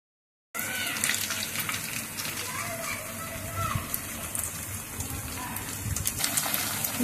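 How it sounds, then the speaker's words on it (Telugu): Suji and potato balls on sticks are lowered into hot oil, bringing a continuous hissing, bubbling sizzle that carries on steadily while someone speaks over it. "ఇప్పుడు ఆయిల్లో వేసుకుందాం."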